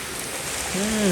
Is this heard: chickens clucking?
no